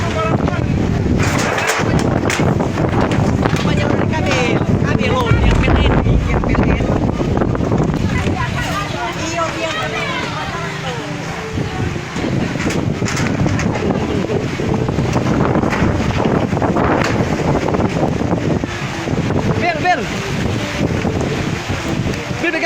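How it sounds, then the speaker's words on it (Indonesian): Strong wind blows across an outdoor wedding reception, a loud sustained roar buffeting the microphone throughout, with people talking underneath. "Angin masih bertiup kencang."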